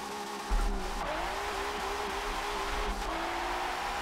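A drift car's engine roars steadily at high revs in the game Street Style Reborn, with tire noise hissing underneath, loud and close, no voices.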